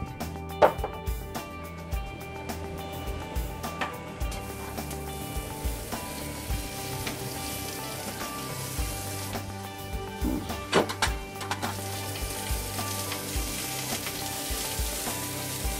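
Olive oil heating and sizzling in a frying pan, a steady crackling fry running throughout with occasional sharper clicks of stirring or utensil contact, close and alone without voices.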